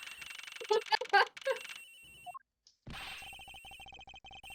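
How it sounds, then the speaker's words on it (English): Telephone ringing in the Ace Attorney video game, a loud electronic ring in repeated rapid bursts, first under voices, then a short pause and a steady pulsing ring standing alone. "The ringing is coming from somewhere in here, sir."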